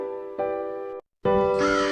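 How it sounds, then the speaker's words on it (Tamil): A crow gives two loud, harsh caws close by, separated by a short silence, the second rising and rougher at its end. "தாகமுள்ள காகம்"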